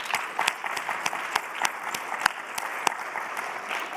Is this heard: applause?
yes